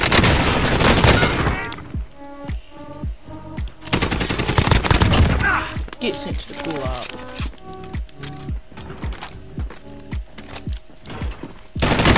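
Rapid bursts of gunfire in the Call of Duty Warzone video game crack out in loud clusters, followed by lighter repeated shots, with a player talking over the action throughout.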